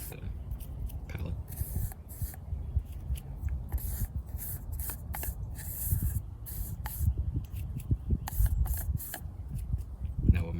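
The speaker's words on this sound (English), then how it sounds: "Just scrape some of this blue off the palette." A blade scrapes blue paint off an artist's palette outdoors, giving repeated short scratchy strokes at close range, with small knocks and rustles between them.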